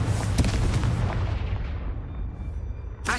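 A booming Confringo blast spell explodes in the Hogwarts Legacy video game, a heavy, close burst with rumbling low impacts that gradually decays, followed by a brief sharp pop at the very end.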